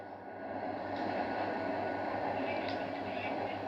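Steady low rumble and rolling rail noise of a moving train in GTA 5, continuous and fairly loud throughout with no talk.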